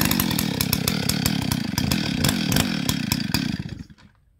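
A Stihl 034 AV chainsaw fires up and runs loud and close with a rough, pulsing engine note, holding steady before cutting out abruptly near the end.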